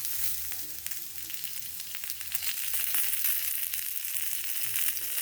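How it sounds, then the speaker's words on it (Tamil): Roasted urad dal and green chilies frying in a pan for a pirandai thuvaiyal, a steady close sizzle with faint crackles, no talk. "வறுத்து வச்சுருக்க உளுந்து கொஞ்சம் சேர்த்துக்கணும் உரப்புக்கேற்ற பச்சை மிளகா"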